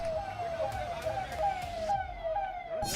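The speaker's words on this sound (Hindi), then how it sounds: "पुलिस की गाड़ियों का सायरन सुनाई दे रहा है" A police siren wails steadily over busy street noise in Khatima, India, with voices talking in the background.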